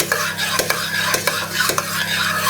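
Steady crackling sizzle of onions, seeds, garlic and ginger frying in hot oil for an aubergine curry, with a few sharp scraping stirs of a utensil against the pan at regular intervals.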